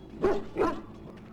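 A dog in the Dragon Age Origins video game gives two short, close barks about a third of a second apart, with quiet game ambience after them.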